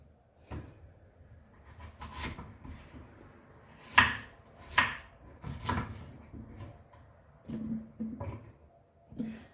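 Potatoes being peeled for scouse, soft scraping and rubbing strokes with occasional sharper knocks and clicks in an irregular rhythm, close and quiet, with no talking.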